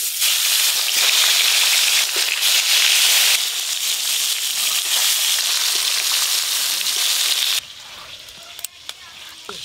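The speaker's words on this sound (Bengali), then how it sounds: "বাকি মাছগুলোও ভেজে নেব।" Pieces of katla fish fry in hot oil in a pan with a loud, steady, close sizzle. It drops to a quieter crackle near the end, with a few small clinks.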